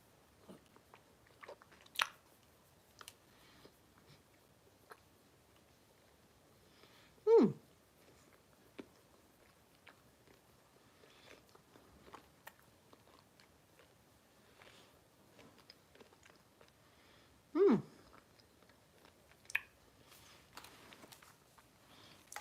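Crunchy Dubai chocolate bar from Iceland being bitten and chewed close up, with two distinct louder crunches and faint mouth sounds between them in a quiet room.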